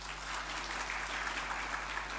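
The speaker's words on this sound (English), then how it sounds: "we would like to welcome you with a round of applause" An audience at a Naga Baptist Convention gathering applauds to welcome guests, a steady wash of clapping that holds evenly for the whole stretch at moderate volume, with no voices over it.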